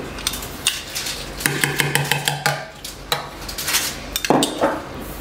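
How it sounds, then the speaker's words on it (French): A utensil scrapes and clinks in a pan as butter is stirred into thickened cream for chocolate cream puff filling, with a run of quick metallic taps and louder scrapes near the end. "vous continuez à mélanger jusqu'à temps que le beurre y fonde"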